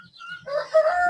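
Chickens cluck on a free-range farm, their calls rising into a loud, close drawn-out vocalization that sounds like a short rooster crow, with no talk over it.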